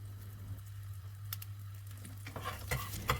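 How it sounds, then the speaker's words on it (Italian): Eggplant slices frying in oil in a pan until golden, a steady close sizzle with a low hum beneath and a few scraping clicks toward the end; no talking. "lasciamo le melanzane finché non diventano dorate, a questo modo come vedete, e dopo la tolgo dalla padella"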